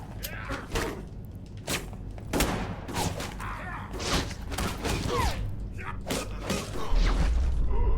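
Gunfire in the video game Alpha Protocol, with repeated sharp shots and thuds in an irregular rhythm over a steady game backdrop, loud and close.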